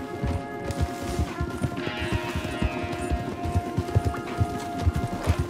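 Horse hooves clip-clop steadily along a forest path in the video game Red Dead Redemption 2, a dense rhythmic patter of several hoofbeats close by, with faint ambient game sounds beneath.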